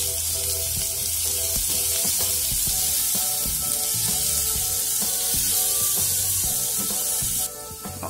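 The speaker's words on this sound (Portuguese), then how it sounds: "aí eu deixo mais um pouquinho fritando aqui" Chopped onion and pimenta de cheiro fry in oil in a pan, giving a loud, continuous close-up sizzle with stirring scrapes throughout that quiets slightly right at the end.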